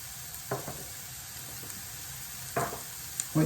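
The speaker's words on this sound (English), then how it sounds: "And they should start sizzling away nicely." Quiet, steady sizzling of vegetables frying in a pan for a vegetable korma, with a few faint clinks and scrapes of stirring; no talking.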